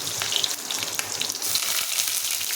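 Onions frying in hot oil in a home kitchen, giving a loud continuous crackling sizzle with bright spattering pops throughout, close and heard alone.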